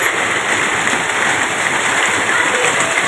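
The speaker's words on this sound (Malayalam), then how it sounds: "നല്ല മഴ കേട്ടോ പുറത്ത്" Heavy rain falling outside, a steady dense hiss that holds evenly throughout with no breaks or separate drops standing out.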